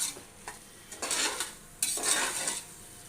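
Vegetables for veg biryani are stirred and sautéed in a pan, with a spoon scraping and clattering against the metal in short bursts over a faint sizzle.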